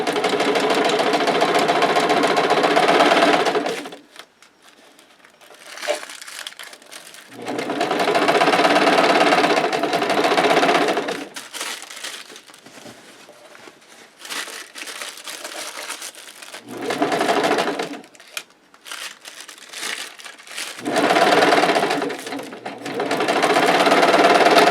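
Sewing machine stitching through vinyl backed with tissue paper, running in three long loud bursts with pauses and short backstitch runs between, close and clear with no talk.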